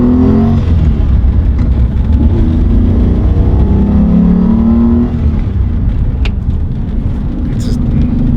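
A BMW E34 with a V12 engine and six-speed manual, heard from inside while driving in fourth gear, gives a loud, steady drone and rumble across the whole stretch, with people talking over it.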